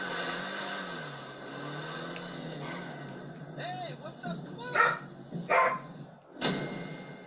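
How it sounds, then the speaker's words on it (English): A dog barks several times in short sharp bursts at moderate distance, heard under and after a person talking over a low background hum. "so that's why she's barking."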